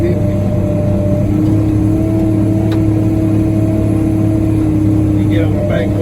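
A Moxy truck's engine hums steadily and loudly as the heavy vehicle drives along a sloped bank, a continuous mid-pitched drone with a faint whine on top and no distinct revving.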